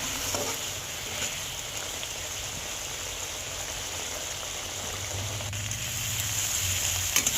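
Mourala fish curry cooking in mustard oil while being stirred, a steady, rain-like hiss of frying at moderate level with faint scraping and no voices.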